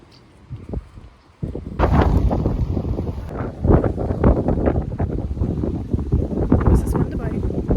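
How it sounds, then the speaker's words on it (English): Gusty wind buffets the microphone in loud, rough bursts, with a voice speaking intermittently underneath. "What's this wind about?"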